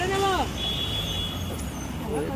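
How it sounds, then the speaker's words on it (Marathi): Road traffic in a city street beside a metro bridge, a continuous rumble of passing vehicles with short tonal horn-like bursts at the start and end. "ट्रॅफिक आहे इकडे."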